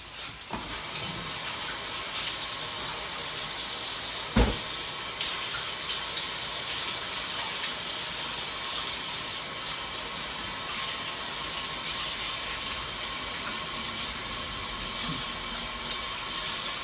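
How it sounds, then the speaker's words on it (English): A kitchen tap pours in a steady, close rush of water while hands are rinsed, the flow unbroken apart from a couple of small knocks, with no one speaking. "I'm just gonna rinse my hands"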